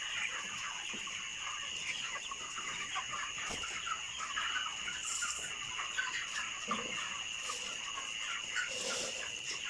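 Broiler chickens on a farm, 28 days old and heavy, cluck in a steady flock chorus at night with a constant high insect-like drone behind them.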